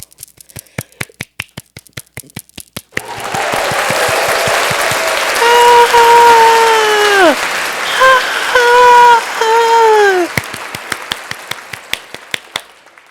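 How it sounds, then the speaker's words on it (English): Hand clapping with a few sharp single claps at first, then a sustained burst of loud applause, with talking and tonal voices over the middle, before isolated claps return at the end. "I'm applauding you."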